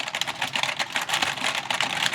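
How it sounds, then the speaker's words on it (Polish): Fast keyboard typing, a steady stream of crisp, closely spaced keystrokes heard up close, continuous throughout with no voices over it. "Musicie jak drapać klawiaturę jakby."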